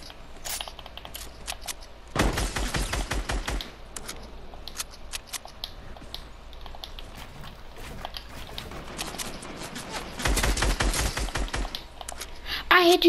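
Two bursts of rapid automatic gunfire crack out in Fortnite, each a dense rattling volley lasting about two seconds, separated by quieter gameplay sounds and scattered clicks, with a player talking at times.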